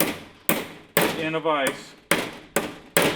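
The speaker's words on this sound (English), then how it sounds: "I just hammered her home using 2 lifters from a 212" Hammer strikes seat an engine lifter shut, driven home with two other lifters from a 212cc engine; seven sharp, loud metallic blows at an even pace, with a person briefly talking in the middle.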